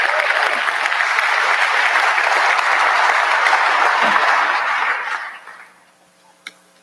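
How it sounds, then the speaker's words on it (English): An audience applauds total force airmen of the Air National Guard and Air Force Reserve: loud, sustained clapping from a large crowd that fades out over the final seconds, leaving near silence and a single faint tap. "let's give a round of applause to our total force"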